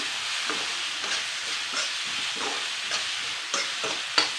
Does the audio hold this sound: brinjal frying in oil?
yes